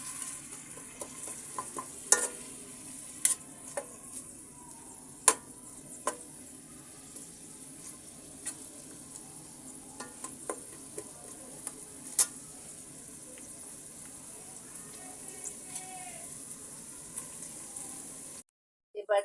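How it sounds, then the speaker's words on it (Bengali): Chopped onion, ginger and garlic fry in oil for beef bhuna, a steady low sizzle with scattered sharp clicks and stirring scrapes, no talk, ending in a brief silence. "পেঁয়াজ কুচি এবং আদা রসুনটাকে আমি এখন ভেজে নেব তেলের সাথে।"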